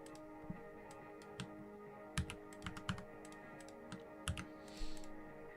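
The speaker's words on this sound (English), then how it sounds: "I don't know why my keyboard just won't let me copy this ID." Scattered keystrokes on a computer keyboard, close and fairly quiet, with uneven pauses between short bursts of clicks and a steady low hum underneath.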